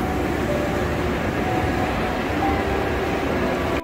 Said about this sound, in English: Okay, another train has just left.